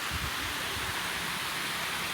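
Water rushes steadily through a breached reservoir bund in Sri Lanka, a loud, continuous broadband roar with no break and no voices.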